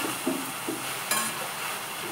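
Fenugreek greens sautéed in oil, a steady moderate sizzle with a few sharp stirring scrapes and clinks of a spoon against the pan.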